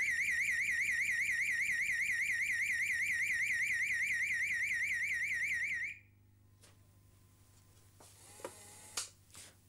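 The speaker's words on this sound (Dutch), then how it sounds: "Dat was het microprocessor gestuurde elektronische inbraakalarm." A microprocessor-controlled electronic burglar alarm sounds a loud, rapidly warbling siren tone that pulses steadily for about six seconds, then cuts off abruptly, leaving quiet room noise with a few clicks and knocks.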